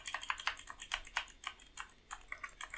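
Quick, irregular keystrokes clatter on a computer keyboard, soft and close, in uneven bursts with brief pauses and no talking.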